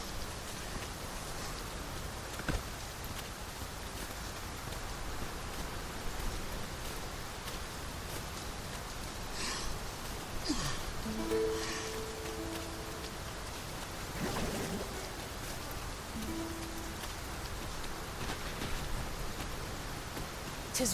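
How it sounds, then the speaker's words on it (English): Steady rain pours down in Dragon's Dogma, a constant soft hiss of falling water that goes on without a break, with faint scattered sounds underneath. "We can push through a bit of rain, surely?"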